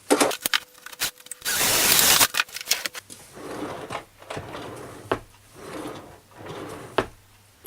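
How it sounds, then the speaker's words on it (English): Bolts and a handle being screwed onto a kitchen cabinet drawer: a close run of sharp clicks, taps and scraping knocks, with a brief burst of rattling noise, then quieter handling sounds. "now I'll put the bolts into place. I'll do exactly the same and screw on the handle"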